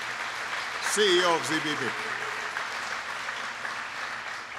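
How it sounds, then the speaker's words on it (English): Audience applause rings out at a clean energy battery manufacturing plant, a steady clapping wash under a voice speaking briefly near the start. "Please give Eric Apfelbach a big round of applause."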